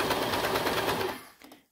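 A sewing machine with its knife disengaged runs a quick burst of stitches along a 1/4 inch seam in slippery sweater fabric, a rapid close mechanical whir lasting about a second before stopping.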